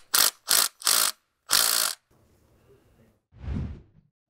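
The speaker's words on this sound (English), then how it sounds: "We're switching over to a 3/8 drive ratchet with an adapter to a 1/4 inch." A 3/8 drive ratchet clicks in four quick loud bursts while loosening a T30 bolt on an Audi A4 2.0T oil pan, followed by faint rustling and a duller thunk, close up and without speech.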